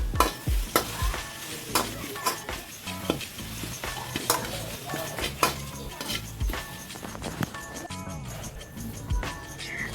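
Spices and curry leaves are dry-fried together in a pan for Mangalore-style sambar masala powder, with frequent sharp spoon-against-pan clinks and scrapes from brisk stirring over a low sizzle, close and busy, no talk.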